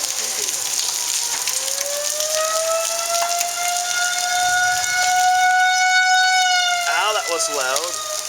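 Wailing tornado sirens sound through steady rain in Dallas, Texas, a long rising and falling tone holding over the hiss before wobbling near the end, while people talk faintly underneath.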